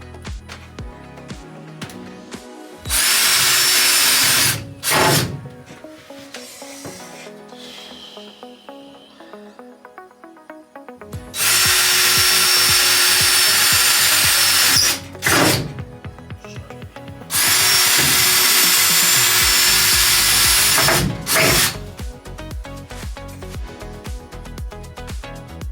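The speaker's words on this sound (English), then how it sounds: "I'm probably going to come back inside the trailer to cut through this stud here" Loud power tool, likely a reciprocating or jigsaw, cuts through a travel trailer wall and wooden stud from inside, in three long sustained bursts with brief pauses and handling noise between.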